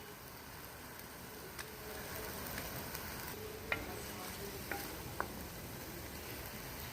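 Soy sauce is stirred into sizzling beef paya (beef trotters) in a pan, giving a faint, steady hiss broken by a few light clinks of the spoon.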